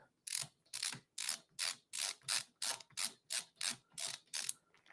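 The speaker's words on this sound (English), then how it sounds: "I don't use a drill. I use a ratchet screwdriver." A hand ratchet screwdriver drives screws into a Galaga pinball machine during assembly. Its pawl clicks in about a dozen evenly spaced, close bursts, each a quick rasping run of ticks.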